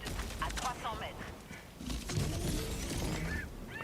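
Heavy machine gun fire rattles in Helldivers II amid a chaotic firefight, bursts of gunfire and impacts mixed under excited voices talking throughout.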